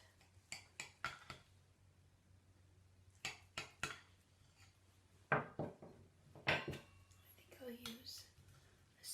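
A baked scalloped corn casserole being cut in its baking dish, with soft scraping and clinking taps of a utensil against the dish in scattered bursts, close and fairly quiet, with a faint hum underneath.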